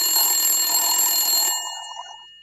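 A bright, continuous electronic phone ring holds for about a second and a half before stopping abruptly, followed by faint trailing noise.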